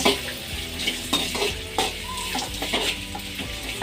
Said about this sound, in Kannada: ಇವೆಲ್ಲ ಹಾಕಿ ಸ್ವಲ್ಪ ಫ್ರೈ ಮಾಡ್ಕೋಬೇಕು. 1-2 ನಿಮಿಷ ಫ್ರೈ ಮಾಡ್ಕೊಳ್ಳೋಣ ಇದನ್ನೆಲ್ಲ.